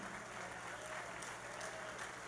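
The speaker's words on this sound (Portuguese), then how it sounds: "Vamos aplaudir a irmã Margarida." Church congregation applauding a sister during a service, steady massed clapping heard faintly at a distance over a low hum.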